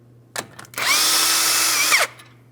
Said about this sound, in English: Let's get this lug nut off of here.